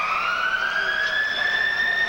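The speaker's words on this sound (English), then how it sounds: "And there is the siren to end the second period of play." An arena siren sounds at the end of the second period of an NHL hockey game between the Edmonton Oilers and Chicago Blackhawks. It is a loud, steady, sustained tone that holds without a break for the whole stretch, with no talk over it.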